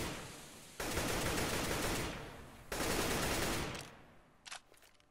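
Automatic weapon fire in a competitive shooter match plays as two long, loud, continuous bursts separated by a short gap, followed by a few fainter, sharp single shots.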